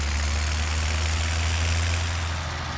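An Agrostar tractor engine idles in Farming Simulator, a steady low rumbling drone that holds even and unbroken throughout.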